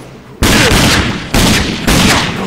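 Three loud, sharp gunshot blasts in the first-person shooter video game Rage, each with a broad booming burst and a trailing decay, spaced about a second apart with no talking.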